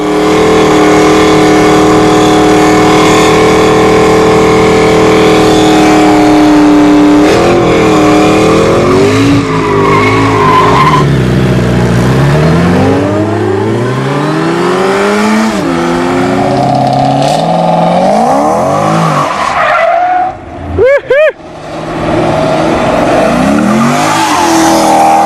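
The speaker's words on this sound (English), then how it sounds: "Burnouts are necessary for drag strip runs to heat up tires." Loud, sustained car burnout at a drag strip, the engine revving hard while tires squeal in long rising and falling whines, briefly dipping near the end before roaring on.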